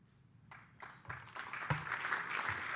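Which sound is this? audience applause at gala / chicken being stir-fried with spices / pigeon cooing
audience applause at gala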